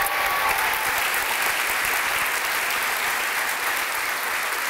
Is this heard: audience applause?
yes